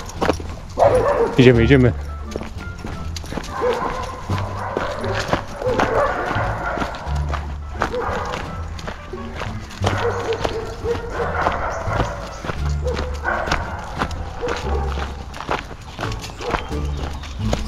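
A German shepherd barks repeatedly on a street during a walk with another dog, the sharp barks recurring over footsteps and movement while a person speaks briefly.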